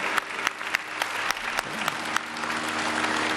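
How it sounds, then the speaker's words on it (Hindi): An audience claps for Deep Narayan at a Patanjali health talk on fasting, a fairly faint, moderate patter of hands with a few sharper individual claps standing out at a roughly regular pace. "दीप नारायण के लिए जोरदार ताली बजा दो,"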